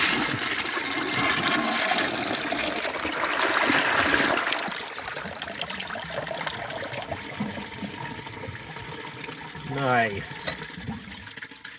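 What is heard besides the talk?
toilet flushed, water siphoning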